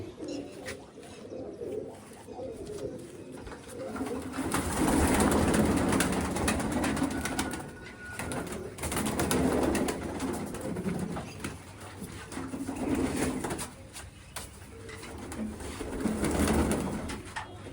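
Pigeons coo repeatedly in soft, rolling bursts that swell and fade every few seconds, close by, with faint chirps and background ambience.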